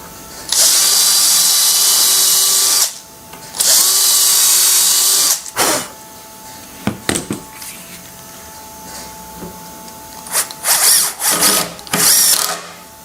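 A power drill drives screws into flat-pack cabinet module panels, two long steady whirring bursts followed by shorter stop-start trigger pulses and clicks, loud and close with no speech.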